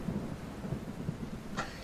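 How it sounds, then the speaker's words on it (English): Heavy, relentless rain falls in a steady, dense hiss with a low rumble underneath, continuous and fairly even throughout with no voices. "the rain was relentless"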